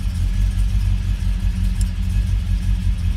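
A Ford Ranchero engine revs on its first start of the year, a loud, steady low rumble held throughout with slight swells in pitch, close by and with no voices.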